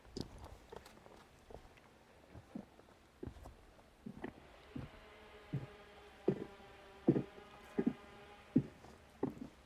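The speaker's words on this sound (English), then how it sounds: "Those are still chainsaws going." Distant chainsaws at a debris-flow site left by Hurricane Helene near Black Mountain drone as a faint, steady whine, heard behind close, regular footsteps crunching over debris.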